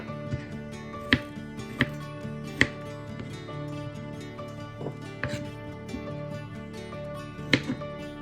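A knife slices through beef for pot roast, several sharp cuts landing on a board at uneven intervals, close and crisp over a faint background hum.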